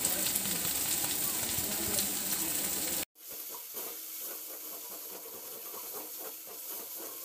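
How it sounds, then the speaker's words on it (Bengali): Spice masala of turmeric and chili powder sizzles steadily in hot oil for a dahi mutton curry; the loud frying cuts out abruptly partway, then continues quieter with light scraping and stirring. "মশলাটা খুব ভালো করে কষিয়ে নিলাম।"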